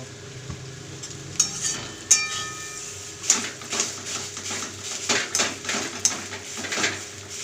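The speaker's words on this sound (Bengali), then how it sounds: "এবারে একটা আমি পাত্রের মধ্যে ঢেলে নেব।" Cooked taro leaves with hilsa fish head and prawns are scraped and poured from a pan into a bowl, giving a string of close metallic clinks and soft scrapes over a quiet kitchen background, with no talk.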